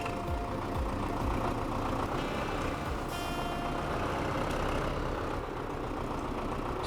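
Tractor engine idling in Farming Simulator 15, a steady low rumbling drone that holds at an even level throughout with no talk over it.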